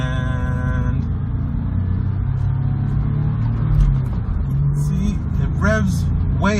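A Porsche 996 with a manual transmission pulling away in first gear, its engine rumbling loud and close and rising in revs under steady talk, with a rising whine near the end.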